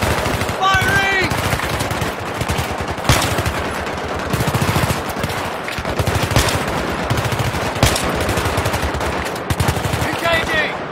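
Sustained machine gun fire in the video game Battlefield 3, rapid rattling bursts nearly continuous across the clip, loud and close, with brief shouted voices mixed in.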